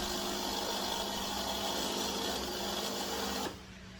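A step drill bit bores into an Evo 7 valve cover with a steady, loud whine and grind for about three and a half seconds, then stops abruptly, leaving a quiet tail.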